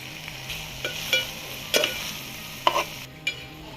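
Gongura fish curry being stirred in a pot: a series of scraping, clinking spoon strokes at an uneven pace over a low simmering background, close and moderately quiet, with no talking.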